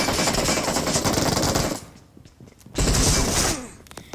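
Automatic gunfire in PUBG, two dense rapid bursts of shots separated by a brief lull, loud and close, no talk.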